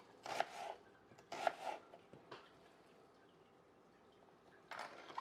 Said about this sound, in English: A lot of thinly sliced red onion.